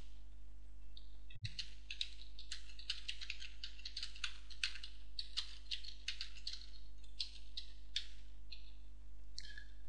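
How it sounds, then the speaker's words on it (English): Someone types into a web form field on a computer keyboard, a quick irregular run of crisp close key clicks over a steady low electrical hum, with no voices. "The user then types in their requirements."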